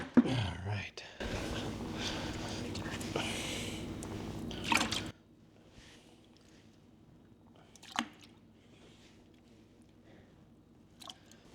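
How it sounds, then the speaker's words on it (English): Salmon roe from wild Alaska sockeye drops into a container of leftover brine with a burst of soft wet splashing, followed by quieter scattered drips and small squishes. "We're going to start dropping our salmon roe in there."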